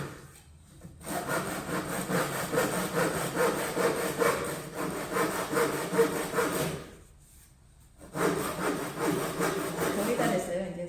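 A hand saw cuts through wood in two bursts of rhythmic rasping push-pull strokes, close and clear, separated by a brief pause, with a voice speaking during the sawing.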